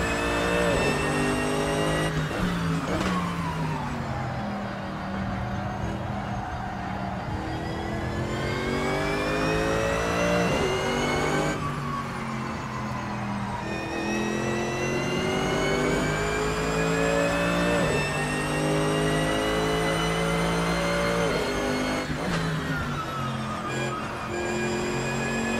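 A GT3 race car engine in a racing video game revs up and down in repeated climbing surges between gear shifts, loud and continuous throughout.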